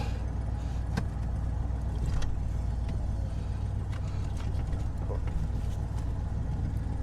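A 1985 Ford Bronco fitted as a snow plow and running poorly rumbles steadily as it drives over uneven ground, with a loud, constant low engine drone and occasional rattles and knocks.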